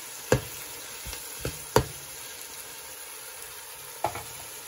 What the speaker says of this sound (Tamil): பாருங்க எல்லாம் அப்படியே சேர்ந்து குக் ஆகுது